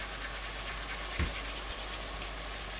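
Dried herb rubbed between fingers over a homemade meat sauce, a faint soft rustling scrape with one brief louder rub in the middle against quiet background noise.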